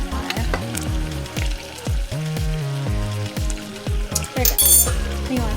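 Flour gets stirred into a sizzling pan while making a thickened sauce for mac and cheese muffins, with a steady fry hiss under repeated clinks and scrapes of a utensil working the pan at close range.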